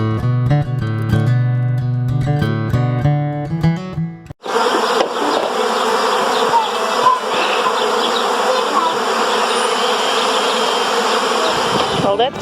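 Honeybee swarm settling in grass: loud, dense, continuous buzzing of many bees close by, preceded by a few seconds of music.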